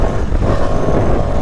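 A Kawasaki H2R motorcycle being ridden hard, its engine roaring loud and close in a steady, continuous revving drone with no voices.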